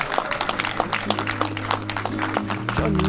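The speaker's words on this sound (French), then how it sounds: "Applaudissez!" An audience applauds at a Baha'i wedding ceremony, a steady wash of many hands clapping at moderate volume, with a sustained musical tone swelling underneath toward the end.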